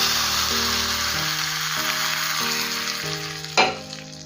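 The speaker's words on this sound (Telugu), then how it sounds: "ఇలా బాగా ఫ్రై అయిన తర్వాత ఇప్పుడు మన కర్రీలో యాడ్ చేసుకోవాలి." Fried spice tempering (tadka) stirred and poured into a vada curry gives a loud, steady sizzle with a sharp burst of hissing near the end, over faint background tones.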